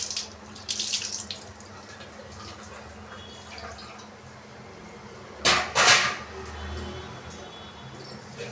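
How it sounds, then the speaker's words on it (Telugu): Water runs from a tap in a steady stream, with a brief louder gush midway, close by in a quiet kitchen. "కొంచెం నీళ్ళు పోసుకుంటాను"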